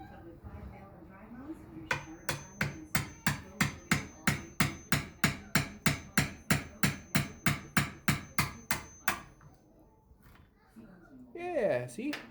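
A wood chisel is struck repeatedly to take small chunks while building a bed, about twenty crisp, evenly paced taps up close, with quiet talk before and after.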